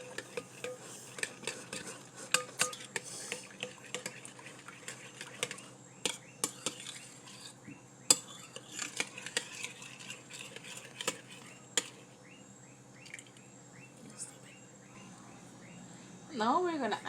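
Thick milk porridge being stirred in a large bowl, giving soft scraping and clinking strokes at an irregular rhythm, with light background noise.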